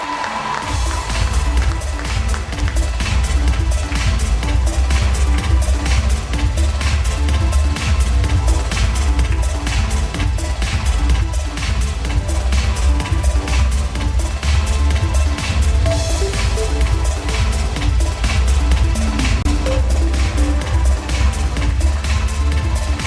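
A large audience at a brand awards ceremony cheers and claps for Delton, a dense, loud round of applause that holds steady from start to finish.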